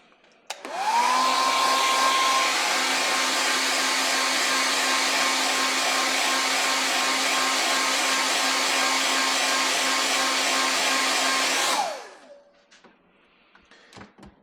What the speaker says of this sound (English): All right, so let's heat set that really quick.